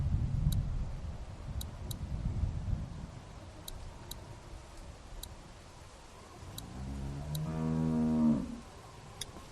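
A cow in The Walking Dead video game gives a long, rising moo near the end, loud and close, over a quiet background of soft rustling and regular faint ticking clicks.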